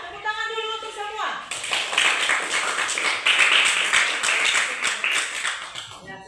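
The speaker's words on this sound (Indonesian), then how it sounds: "Tepuk tangan dulu untuk semua." Students in a classroom lesson break into clapping after a short falling electronic tone, a lively burst of many hands with crisp individual claps, fairly close and loud, fading out at the end.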